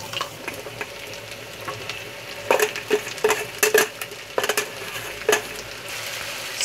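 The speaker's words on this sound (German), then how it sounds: "in der Pfanne ist, wie ihr sehen könnt, bunter Knoblauch, drüber Gemüse" Colorful garlic and vegetables fry in a pan with salt, pepper and sugar, giving a steady sizzle broken by sharp clattering bursts of stirring, close up and with no talking.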